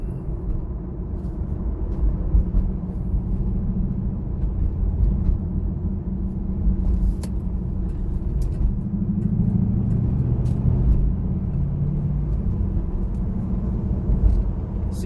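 A 2002 Chevrolet Camaro SS, 35th Anniversary edition, accelerating in first gear: a steady, deep engine rumble heard from inside the car, rising slightly in pitch and holding at an even loudness throughout with no talking.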